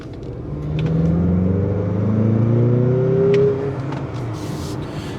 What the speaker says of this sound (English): We're going to get on it and see how this turbo 4-cylinder Skyactiv engine responds.